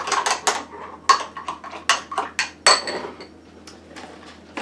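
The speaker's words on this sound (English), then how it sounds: "I'm just gonna stir it up really good" A spoon stirs a morning smoothie in a glass, giving a run of sharp, close clinks and taps in an uneven rhythm, loud and with no voices over it.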